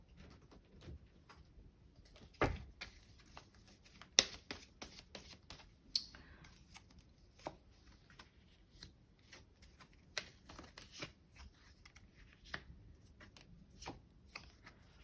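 Tarot cards shuffled and drawn at a reading table: faint, soft repeated riffling and tapping taps scattered throughout, close by and without talk.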